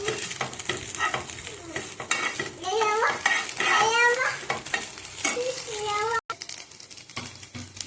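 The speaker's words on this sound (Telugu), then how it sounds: "ఇప్పుడు దీన్ని బాగా మిక్స్ చేసుకున్నాను." Egg Maggi noodles are stirred in a hot pan: steady scraping and light sizzling run through the whole stretch while a voice talks over it.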